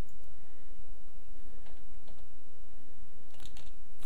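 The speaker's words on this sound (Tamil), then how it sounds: "இங்கே நான் டைப் பண்ண போகிறேன்" Keys tapped on a computer keyboard while text is typed into Photoshop, giving quiet, uneven clusters of clicks over a low steady hum, with a brief louder burst near the end.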